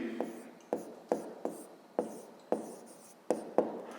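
A pen writing on paper during a fifth-grade maths exercise, with a quick series of scratchy strokes in an uneven rhythm, close and quiet, with no talk.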